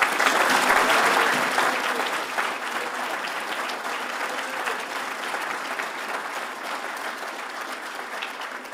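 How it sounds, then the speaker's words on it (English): A crowd at an alumni hall of fame reception for USA Boxing gives a sustained, dense round of applause, loudest at the start and holding steady with no break. "you all need to please give him a big round of applause"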